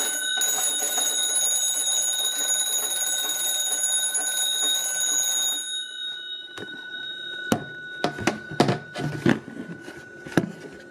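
A magneto telephone's bells ring continuously for several seconds after its hand crank is turned, then stop, followed by a series of sharp clicks and knocks from handling the equipment nearby.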